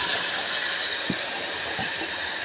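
Spinach leaves dropped into hot oil with crushed bird's eye chillies, giving a loud, steady sizzling hiss throughout, with a couple of soft knocks partway through and no voices.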